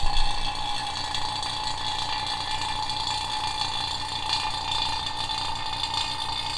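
A vacuum pump draws down the air-conditioning system of a Ferrari F430 during a compressor replacement, giving a steady, close mechanical drone with a faint ticking rattle that holds unchanged throughout.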